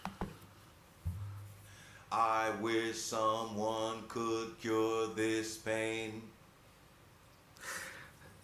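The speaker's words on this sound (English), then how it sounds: "So this is singing at flat pitch, at constant cadence." Pseudo singing at flat pitch and constant cadence, one voice intoning a sung line on a near-steady tone with evenly paced syllables, close and moderately loud, preceded and followed by quiet room noise and breaths.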